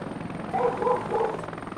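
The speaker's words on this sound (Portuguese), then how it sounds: "mas esse helicóptero aqui é muito versátil" A helicopter flies in a co-op military video game mission set in Afghanistan's Khost province, giving a steady, close rotor drone that swells slightly midway.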